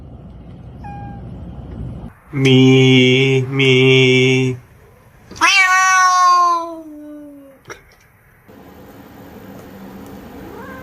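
A hungry house cat meows loudly and close, giving two long drawn-out calls and then a falling, wavering cry, with short gaps and faint room noise between them; a person speaks briefly.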